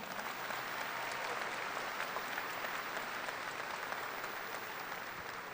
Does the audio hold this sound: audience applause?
yes